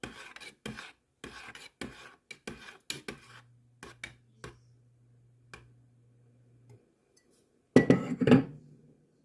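Wooden spoon clatters and scrapes against a pot in quick irregular knocks, followed by a low hum, then a louder burst of scraping.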